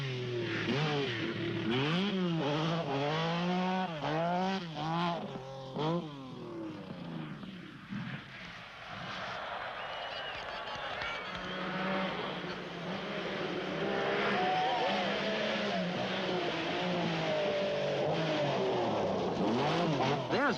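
A Lancia Stratos rally car drives a rally stage, its engine note rising and falling through repeated revs and gear changes, loud and close, with crowd or ambient noise underneath.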